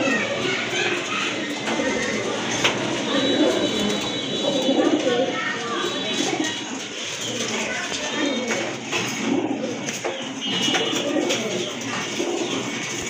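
Pigeons kept for sale, including large White Shirtin birds, coo in low repeated throaty calls close by, several overlapping, while someone talks over them and other birds chatter in the background.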